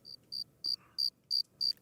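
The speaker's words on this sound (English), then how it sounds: "I heard crickets." Crickets chirp in six evenly spaced bursts, a steady rhythmic trill heard alone against a quiet background.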